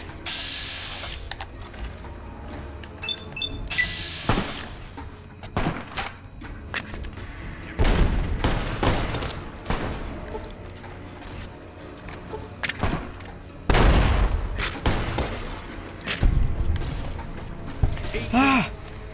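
Grenade blasts and gunfire in a Fallout: New Vegas firefight, several sharp explosive bursts and rattling shots spaced irregularly, mixed with game effects and someone talking over the action.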